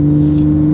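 Porsche 911 Turbo S with a 1300 hp LCE-built engine, running under automatic shifting: a loud, steady engine drone held close throughout a brief moment, with no voices over it.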